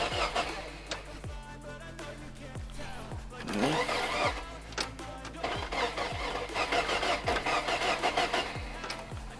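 A VAZ 2108 that sat idle for a week cranks with rhythmic starter churning and the engine catches, settling into a rough running rumble with irregular bursts, close by.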